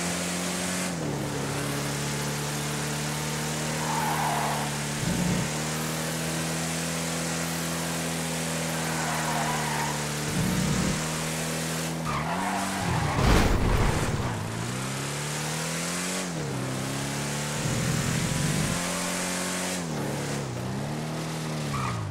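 Game car called the Litoro on an off-road test drive, its engine holding a steady drone throughout, with shifting revs and brief scrapes and skids, rising to a rough burst midway.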